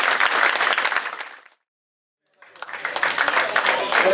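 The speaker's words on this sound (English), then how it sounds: "Keep the round of applause going, ladies and gentlemen." Audience applause at a football club fans forum, dense crowd clapping that fades out, drops to a brief silence, then swells back up again loud and sustained, with a voice speaking over it.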